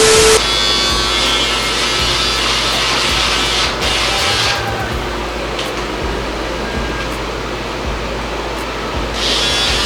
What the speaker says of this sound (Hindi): ट्रिमर भी अटक रहा है।